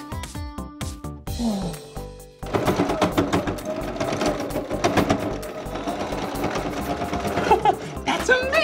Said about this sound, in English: The needle is moving so fast and it's putting the thread in the clothes.